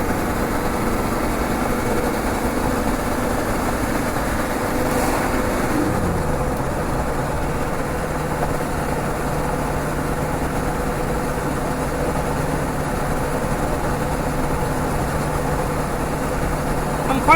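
A Land Rover Defender 300Tdi diesel engine, suffering a failing power steering pump and a water leak, runs with a continuous steady drone and low rumble, its pitch dipping and settling to a lower note around the middle.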